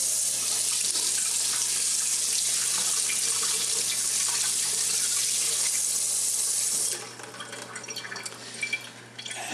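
A Keurig coffee filter is rinsed under a steady running tap, a continuous close hiss of water that cuts off near the end, leaving faint drips and handling sounds.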